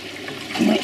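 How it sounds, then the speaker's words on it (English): Waste water from a koi pond filtration system drains through an opened waste valve and pipe, producing a short, steady rushing gurgle that swells slightly toward the end, close and moderately loud. "Open the waste valve. I have a pump on that. And away the waste goes. It runs down into a waste pipe into the drain."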